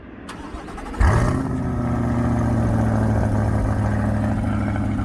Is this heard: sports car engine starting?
yes